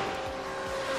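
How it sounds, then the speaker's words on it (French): BMW M8 GTE race car in the iRacing sim, a loud, sustained engine note with tire noise through a brief one-second burst. "Le bruit est pas mal de cette voiture."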